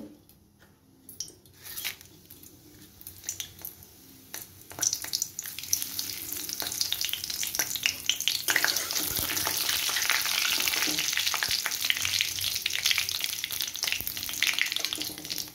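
Whole spices hit hot oil in a kadai for Bengali chickpea ghugni, starting quiet and swelling after a few seconds into a steady, bright crackling sizzle that holds to the end, with occasional scrapes.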